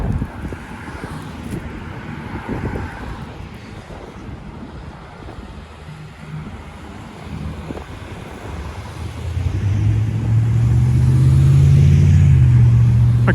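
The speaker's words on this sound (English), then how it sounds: "Traffic's always heavier at lunchtime." Lunchtime road traffic rolls past on a street in Regina, with steady wind-buffeted rumble that swells as a vehicle approaches close and loud near the end.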